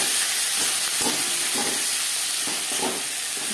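Chopped onion and tomato fry in oil in a pan for a tilapia and potato curry, a steady close sizzle and hiss with a few soft stirring scrapes and no voices.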